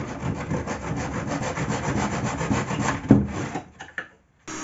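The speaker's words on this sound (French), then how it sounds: "Je viens retirer de la matière à l'aide de la perceuse et du papier à poncer" A drill fitted with sandpaper grinds steadily against a wooden handle in a workshop, a dense continuous rubbing that runs for about three seconds, then breaks into a few short scrapes before stopping.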